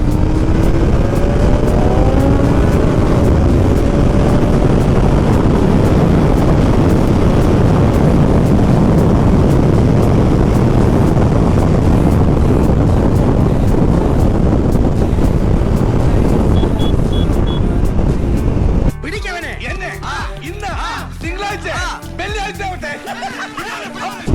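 A rider on a 790 motorcycle cruises along with heavy, constant wind roar and engine drone for most of the ride. The noise then drops to a quieter, choppier buffeting near the end.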